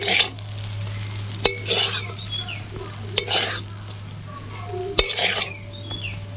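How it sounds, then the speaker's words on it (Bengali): A metal spoon stirs egg chowmein ingredients in a frying pan, with repeated scraping strokes, a few sharp clinks against the pan and a faint sizzle under a steady low hum. "এবারে আবারও ভালো করে সবগুলো একসঙ্গে নাড়িয়ে নেব।"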